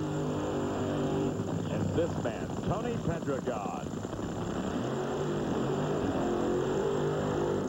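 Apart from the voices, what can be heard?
drag racing car engines running at NHRA nationals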